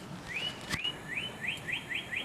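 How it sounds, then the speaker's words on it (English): Bird chirps outdoors: a series of rising whistled calls repeating at a steady pace, clear and fairly close, with one sharp click partway through. "Listen to the birds chirping."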